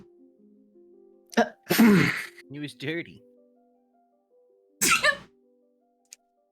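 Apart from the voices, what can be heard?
sneezing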